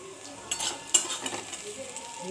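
Quiet frying of cauliflower in a pan with soft sizzling, a few scraping stirs and utensil taps, and no voices.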